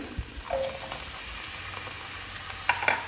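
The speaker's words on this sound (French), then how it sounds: "je vais verser l'huile dans ma poêle. Je vais y rajouter l'oignon" Onion frying in oil in a pan, a steady close sizzle with a few stirring knocks and scrapes, no voices.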